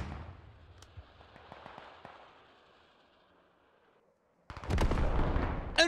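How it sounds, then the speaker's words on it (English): Hell cannon fire in the game Squad strikes infantry on an objective: a few sharp distant booms rumble and fade, then heavy, loud blasts and crackling close by. "Hell cannons just tearing through Canadian infantry on the north side of the objective."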